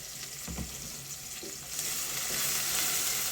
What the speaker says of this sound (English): So you cook your onions until it turns brown.